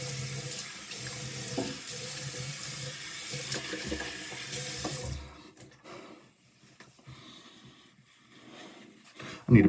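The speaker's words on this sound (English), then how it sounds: "get a little more hot water here." Hot water running from a bathroom tap into a sink during a straight razor shave, a steady close splashing stream that stops about halfway, leaving quieter handling noises and a brief clatter at the end.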